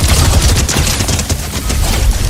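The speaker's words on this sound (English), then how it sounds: "What people don't recall is Bender's shiny metal ray gun." Bender's shiny metal ray gun in Fortnite, a reskinned weapon, firing in a loud, unbroken rapid burst of crackling shots that fills the whole moment.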